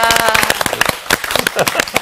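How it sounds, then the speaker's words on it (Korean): A class audience at a Bible study lecture bursts into loud, close applause, dense uneven claps filling the whole moment, with voices mixed in beneath. "여러분들 박수 한번"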